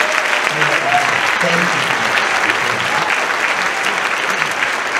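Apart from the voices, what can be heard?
applause for two singers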